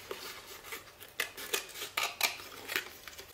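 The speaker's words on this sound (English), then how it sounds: "I can get in with my scissors and cut out" Scissors snip through paper cutouts for a Celtic Tara brooch design, making a quick run of sharp, close clicks and cuts with short pauses between them and no talking.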